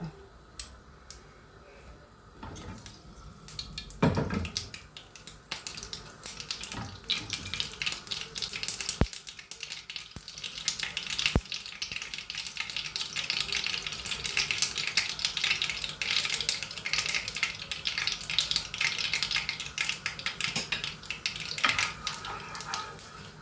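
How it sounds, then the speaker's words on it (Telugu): Mustard seeds fry in hot oil for a Kerala-style okra tempering, a busy crackling sizzle that builds and spreads across the pan with scattered pops and stirring clinks. "ఆవాలన్నీ వేగిపోయాయండి"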